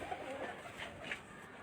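A pure Baloch female pigeon coos softly, faint and near, a couple of low murmuring calls against a quiet background.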